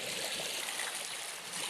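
A river flows steadily with continuous broadband rushing and trickling water, even and fairly close, with no voices.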